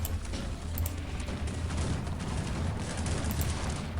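Dense, continuous rattle of gunfire and blasts in the video game Cossacks 3, loud and unbroken for several seconds, with no voices.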